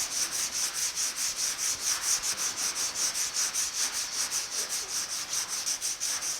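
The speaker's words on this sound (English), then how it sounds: "it's sanded down as far as I want to go with the 80 grit" Steady hand block sanding with 80 grit paper on the steel hood of a 1950 Chevy truck, a close, loud rhythmic rasp of even back-and-forth strokes, about three per second, with no talking.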